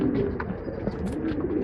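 A female Dhoomthiraval pigeon gives soft, low, throaty coos, heard close but quiet against a faint murmur of background noise.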